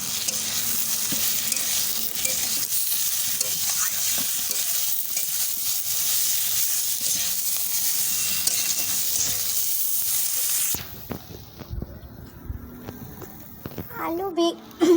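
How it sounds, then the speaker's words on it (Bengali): Chopped eggplant stirred with potatoes in a hot pan, a steady close sizzle with scraping spoon strokes throughout, the frying hiss dropping away near the end as a few sharper clinks and knocks take over. "এবারে বেগুনগুলো কেটে রাখা বেগুনগুলো দিয়ে আলুর সাথে ভালো করে নেড়ে নেব।"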